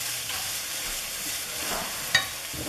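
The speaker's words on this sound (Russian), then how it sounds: "Обжарю этот лук с томатной пастой." Chopped onion fried with a spoonful of tomato paste sizzles softly in a pan, with a couple of light stirring scrapes and a small clink near the end.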